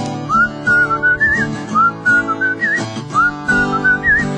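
Melodic whistling carries a bouncy tune in repeated phrases over music with a steady beat, several notes rising and falling, during a live performance in a radio studio.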